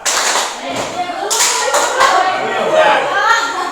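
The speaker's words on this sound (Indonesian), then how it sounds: "silakan tepuk tangan di depan" A group claps hands in a counted rhythm, sharp bursts of clapping repeating over lively voices in a biology classroom activity.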